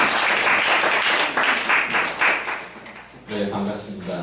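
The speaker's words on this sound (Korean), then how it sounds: "오늘 강연을 맡아주신 신호섭 대표님을 뜨거운 박수로 맞이하겠습니다." A lecture audience applauds to welcome a speaker: a dense, sustained clapping that swells and dips for about three seconds before fading as a voice begins.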